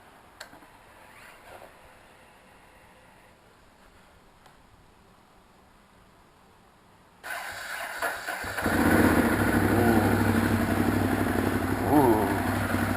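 A Ducati Monster 821 Stripe motorcycle starts up after a quiet stretch with faint ticking, then its engine idles and revs loudly and steadily, close by, for the rest of the clip.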